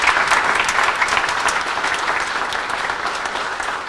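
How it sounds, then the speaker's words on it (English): A crowd claps steadily at a science lab ribbon cutting, dense even applause close to the microphone that holds throughout without easing off. "that deserves a round of applause"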